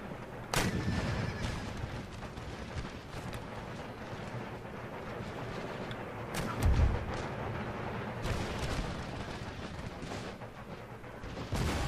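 Cannon and musket fire in the Empire: Total War battle game, with sharp booming blasts and crackling volleys scattered over a windy, rumbling background.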